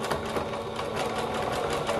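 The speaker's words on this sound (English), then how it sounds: "Just going to follow that and top stitch it" Sewing machine edge stitching elastic on a baby romper, a fast steady mechanical whirring and needle chatter running continuously for a couple of seconds, close and clear.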